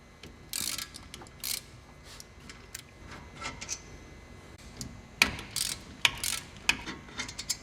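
Car brake caliper bolts being removed during a front brake pad and rotor job, heard as quiet scattered ratchet clicks and metallic ticks in short bursts, with no talking.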